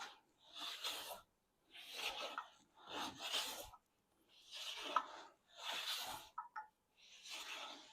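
Hand blade trimming the tails of a wood dovetail joint on a dresser drawer front, heard as a series of close, rasping strokes in steady bursts with short pauses between them.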